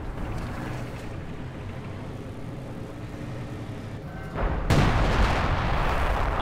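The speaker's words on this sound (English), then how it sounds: "Light artillery barrage at your command." A light artillery barrage in the video game Company of Heroes 2 booms and rumbles in a dense, steady wash of battle noise that grows louder with a sharp burst near the end, with no talk.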